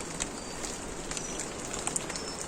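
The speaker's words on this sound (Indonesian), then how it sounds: "Mulai hujan lagi" Rain falls on the Papahan trail up Mount Pesagi, a steady hiss of drops patters across the surroundings with occasional sharper nearby drips. The sound is continuous and moderately loud, with no talk.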